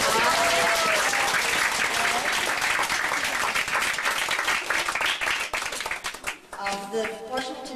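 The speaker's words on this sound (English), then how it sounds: "let's give her a round of applause." A crowd claps steadily for filmmaker Marilou Diaz Abaya at an evening talk session, with sustained dense applause that fades near the end while voices and a burst of music or chatter come through underneath.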